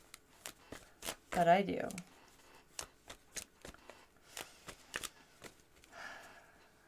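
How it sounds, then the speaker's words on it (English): Tarot and oracle cards are shuffled by hand in a rapid series of crisp riffles and slaps, one longer rustling burst early on, while a person says a few words. "I meditate while shuffling"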